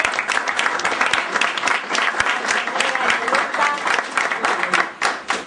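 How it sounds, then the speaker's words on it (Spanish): Sustained applause from an audience at an educational No Violence Day event in Laguna, a steady patter of many hands clapping close by that fades briefly near the end. "Un aplauso para el señor."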